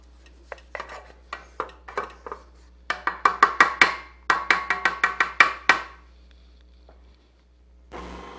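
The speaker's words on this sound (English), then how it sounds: "give it a little scrape down." A spatula scrapes down the sides of a bowl of carrot cake batter in a series of short, crisp rasping strokes, quick clustered bursts close to the mic with brief pauses between, no talk.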